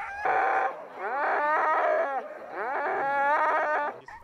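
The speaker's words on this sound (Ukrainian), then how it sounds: "Мороз, сонце, а ще радісний вий та гавкіт." Sled dogs at a winter sled-dog race in a forest park howl and bark together, a loud, continuous chorus of rising and falling wavering howls in several long bursts, no talking.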